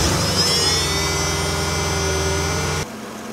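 A Mercedes CLK550 engine idles steadily after a coolant refill, an even, fairly loud hum with a whining high tone above it, until it cuts off abruptly near the end, leaving only faint background.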